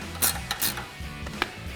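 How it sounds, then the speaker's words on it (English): A wrench tightens the 16 mm and 17 mm pivot bolts on a front bumper being fitted to a 2019-2024 RAM 1500, giving quiet, close ratcheting clicks in short, irregular bursts. "We're just gonna tighten those down."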